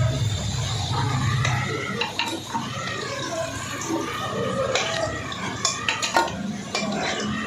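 Fried potatoes are lifted out of a frying pan, with spoon scrapes and light metal clinks over a steady background sizzle, plus sharper knocks toward the end.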